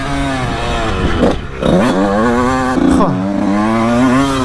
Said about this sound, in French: faut vraiment mettre du gaz,